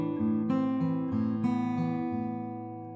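Fingerstyle acoustic guitar picks a short pattern of open and fretted notes on the lower and middle strings, each note ringing clearly and overlapping the next in a steady rhythm, close and alone.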